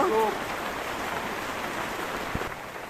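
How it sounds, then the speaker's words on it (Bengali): Heavy rain falls outside, a steady dense hiss that lasts the whole stretch, with a brief voice near the start and a faint knock toward the end. "দেখুন বাইরে কি বৃষ্টি হচ্ছে, অনেক বৃষ্টি হচ্ছে"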